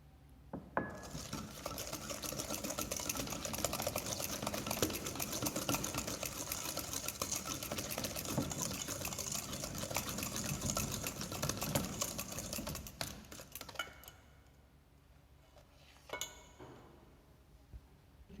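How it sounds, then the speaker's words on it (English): Eggs whisked for a mango upside down cake give a steady, busy rattling and clinking against the bowl for about thirteen seconds, then trail off into a few faint scattered knocks with no voices. "are mixing eggs. Mix them one by one."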